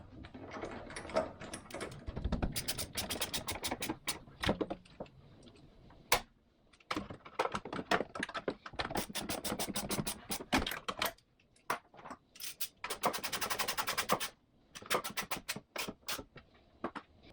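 A wrench snugs the bracket bolts on an ARB air compressor being installed in a vehicle's engine bay, giving bursts of quick, close ratcheting clicks separated by short pauses and single knocks.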